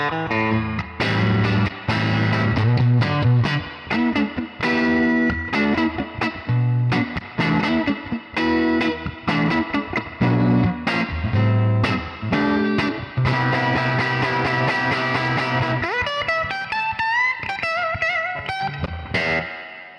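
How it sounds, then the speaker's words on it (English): A Fender tube studio amp with its reverb set to 10 plays a loud, continuous run of guitar notes and chords, each attack trailing into a wash of heavy spring reverb, with a shimmering, effects-laden passage toward the end. "let's turn up the reverb to 10 and see how it fares up"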